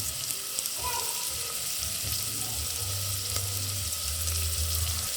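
Chopped onions and curry leaves frying in hot oil for mushroom biryani, a steady, dense crackling sizzle running throughout with occasional small pops, close and even.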